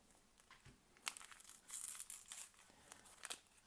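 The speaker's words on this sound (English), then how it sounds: "We'll cut the very top of the package." A Russian military ration tea bag package is cut open in a quiet room, giving short crinkling and crisp plastic rustles in irregular bursts. The sound is close and soft, with no talking.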